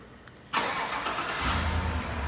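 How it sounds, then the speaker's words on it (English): A 2016 Chevy Tahoe LT engine starts by remote start. After a quiet moment, the engine catches abruptly and settles into a steady, fairly loud idle with a low rumble, heard close by. "It's even got remote start."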